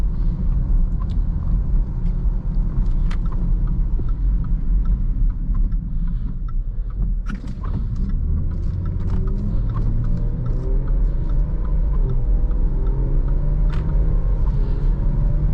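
Cabin sound of a 2018 Jaguar F-PACE 3.0 supercharged on the road: a loud, steady low rumble of engine and tyres with a rising drone as it accelerates, plus occasional light clicks.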